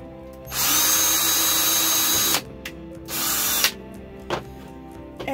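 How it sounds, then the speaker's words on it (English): A power drill whines loudly in a long burst, stops, then runs again in a shorter burst, followed by a few faint clicks and knocks. "Just gonna drill my holes."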